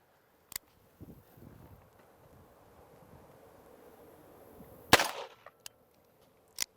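A WWII British handgun fired outdoors on a range, with a sharp loud crack near the middle and a few fainter distant pops before and after, over light wind noise.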